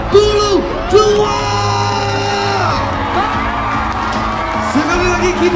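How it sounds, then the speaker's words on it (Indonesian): A stadium crowd at a sports-games closing ceremony at Stadion Semeru, Lumajang, whoops, shouts and cheers in loud bursts that rise and fall, with a general roar running between them. "Sekali lagi kita beri tepuk tangan yang meriah untuk Kabupaten Lumajang."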